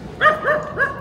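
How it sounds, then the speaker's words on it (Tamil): A dog barks three times in quick succession in a Northeast China village, loud and fairly close, with a quiet background. "இங்கே நாய் குலைச்சிட்ருக்கு."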